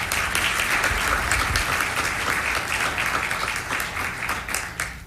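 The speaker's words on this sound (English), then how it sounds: "So a big round of applause and thank you to these artists." An indoor audience at an arts advocacy event applauds artists. Dense, continuous clapping from many hands is heard close and even, tapering slightly toward the end.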